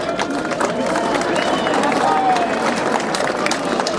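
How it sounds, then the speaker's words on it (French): An audience at a Force Ouvrière union meeting in Nantes applauds as a speaker is welcomed: a loud, continuous patter of many hands with a crowd murmur mixed in. "on va l'applaudir"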